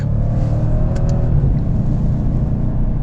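A Mercedes AMG C63s engine accelerates hard in a launch, a loud, deep, continuous roar with rumbling low tones and a couple of brief sharp crackles near the start.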